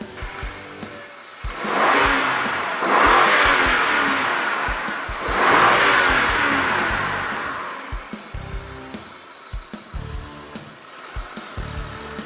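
The twin-turbo TwinPower Turbo engine of a BMW 550i xDrive revs hard in two long, loud surges that rise and fall, then settles into a rough idle with ticking mechanical noise.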